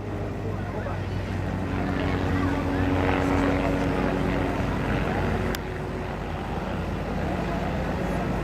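A Twister aerobatic plane flies a solo display at the Blackpool airshow, its engine drone steady and moderately distant, mixed with seaside wind and crowd ambience throughout.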